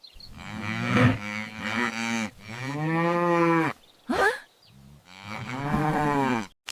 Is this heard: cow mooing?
yes